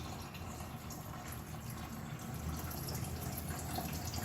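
Coolant pours and trickles out of a 2008 Toyota Yaris engine during a water pump replacement, a faint, continuous liquid splashing and dribbling with no talk over it.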